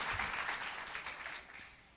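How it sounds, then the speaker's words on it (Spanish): A church congregation applauds the Lord during a Spanish-language service, a steady wash of clapping from many hands filling the room for about two seconds, with no voices rising above it. "Denle ese aplauso al Señor"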